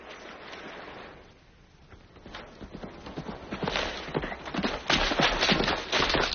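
Horse hooves clip-clop on hard ground in a 1941 Western film soundtrack, starting soft and growing louder and closer as the irregular steps approach, with no voices over them.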